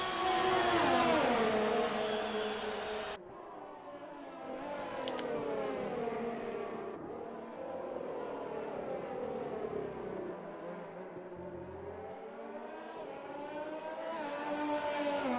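A Formula 1 race car engine in the video game F1 2020, racing at the China circuit, screams at high revs and drops through repeated gear shifts, then climbs again. The engine is loud, continuous and alone.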